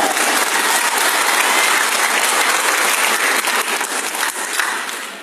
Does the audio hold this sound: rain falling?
no